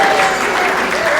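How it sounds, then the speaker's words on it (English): A church congregation applauds steadily throughout, a dense, continuous wash of clapping from a large indoor crowd with no break. "Now we cheer again."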